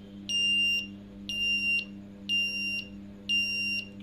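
An Arduino shield's electronic buzzer sounds four loud, shrill beeps, each about half a second long, in an even rhythm with short pauses between them.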